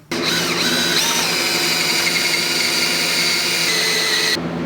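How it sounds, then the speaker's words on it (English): A power drill boring a hole in a metal motorcycle exhaust pipe gives a loud, steady whine that runs continuously for several seconds, high-pitched and close, then cuts off abruptly near the end. "drill a hole in this pipe"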